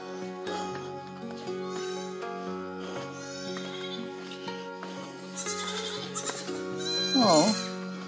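Goats bleat in a mountain valley near a temple in Vietnam, several wavering cries from young kids close by, the loudest near the end, over background music.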